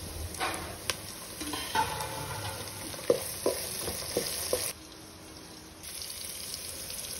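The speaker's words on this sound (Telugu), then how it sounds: "ఇలా కొద్దిగా కలర్ చేంజ్ అయ్యాక కట్ చేసుకున్న టొమాటో వేసుకోవాలి" Chopped tomatoes go into a pan of frying onion, chillies, mustard seeds and curry leaves for an okra fry, giving a steady soft sizzle with a few stirring scrapes and clinks, then settling into a quieter hiss.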